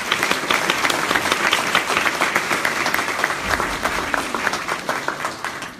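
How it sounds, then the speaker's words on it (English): An audience at a conference on recovery-ready communities applauds a panel: sustained, even clapping from many hands, fairly close and loud, running steadily throughout with no talk on top. "How about one more round of applause for our entire panel?"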